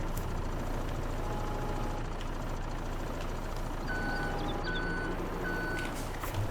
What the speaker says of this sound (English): I absolutely love this electric forklift